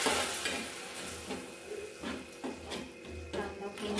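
Onions cooking in a pan for dhaba-style chicken curry, with a steady close sizzle broken by repeated scrapes and stirring knocks, and no talk.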